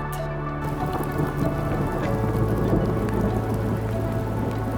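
Heavy rain pours steadily at a fishing camp in the ZEC de la Rivière-Blanche during a thunderstorm, a dense close hiss of drops on surfaces with low thunder rumbling underneath, with no talk.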